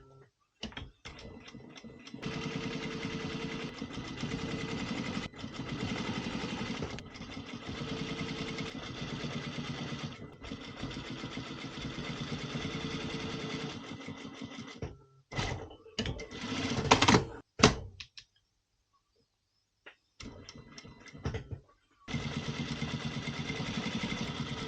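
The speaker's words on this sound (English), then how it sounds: "next step will be to sew in the back part here" A sewing machine stitches the back panel of a waterproof softshell jacket in long, steady bursts of rapid mechanical whirring, broken by brief pauses and a few clicks between runs.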